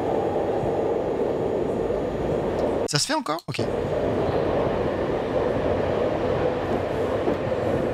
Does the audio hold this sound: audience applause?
no